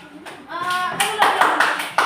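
Applause in a school classroom, starting as a few scattered claps with a voice over them, then building into steady group clapping from many students nearby.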